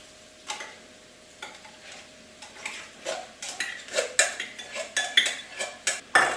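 Rotel tomatoes are stirred into a pan with a utensil, giving repeated clanking scrapes and taps that grow louder and more frequent over a faint sizzle, with no talking.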